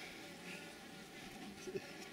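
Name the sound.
bees buzzing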